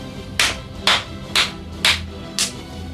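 Five sharp, separate hand claps, spaced about half a second apart, close to the microphone and alone over faint background hum, given as a rating for a Super Bowl XXI program.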